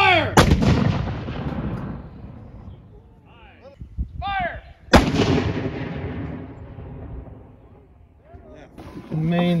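Two heavy, booming reports from a Civil War Parrott rifle cannon during live fire, each a sharp broadband blast with a rolling outdoor decay. Voices of the crew talk and shout between and after the shots.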